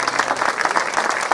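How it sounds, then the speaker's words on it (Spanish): An audience applauds a presenter at a festival in San Andrés, a dense, loud burst of many hands clapping steadily and close. "Un aplauso muy fuerte para él"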